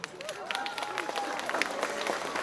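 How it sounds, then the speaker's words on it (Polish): An audience in Ostrowiec applauds in a dense, continuous patter of clapping, with a voice briefly audible under it. "Brawa dla Państwa."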